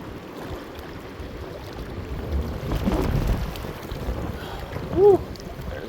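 Strong gusty wind on a river while fishing, a low rumbling roar buffeting the microphone that swells in the middle, with a brief faint tonal sound near the end.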